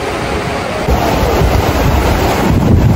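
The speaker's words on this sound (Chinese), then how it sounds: "这两天下了雨，所以河川的水流非常的急。" Ginga waterfall in Hokkaido, swollen after recent rain, roars in a loud, constant broadband rush of falling water mixed with wind noise.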